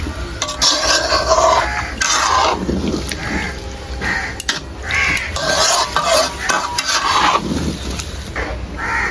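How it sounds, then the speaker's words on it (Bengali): A spoon scrapes and stirs through fish curry in a pan, repeated rhythmic scraping and sloshing strokes close by, with crows calling in the background. "আস্তে করে নাড়িয়ে দেবেন"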